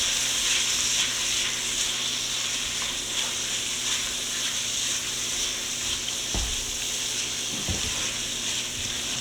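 Frozen vegetables cooking down in a pot for a budget gumbo, producing a continuous close hiss and sizzle with a couple of brief knocks near the end and no voices.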